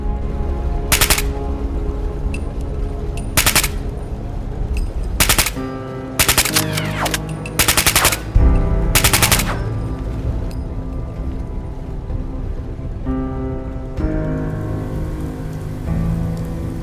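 Rifle fire from a pack rifle in the Fallout 4 video game, heard in a settlement. Loud bursts of rapid shots come in several separate volleys over a steady hissing background, with short pauses between them.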